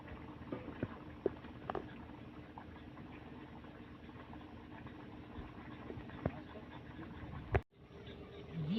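Fish curry boils in a pot on a clay stove, a low, steady bubbling rumble with occasional soft pops and a brief knock near the end, faint and close, with no talking.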